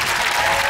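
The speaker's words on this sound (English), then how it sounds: "Well done, big round of applause" Studio audience applause on a British TV quiz show, a loud, dense burst of clapping and crowd noise heard close and continuous for a brief moment.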